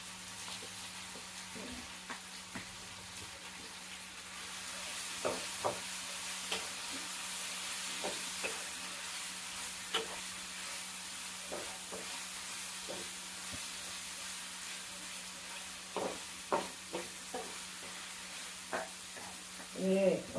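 Chilli-masala marinated food fries in hot coconut oil in a home kitchen, a soft steady sizzle with scattered stirring clicks and scrapes, fairly faint and close.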